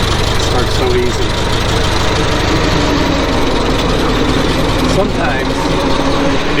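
A 1924 Ford Model T engine idles steadily just after starting, a continuous close mechanical rumble with constant loudness throughout, with talk over it.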